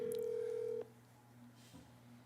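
Phone call being placed for a church livestream service: a loud steady electronic tone cuts off abruptly, then faint quiet line hiss with a soft click.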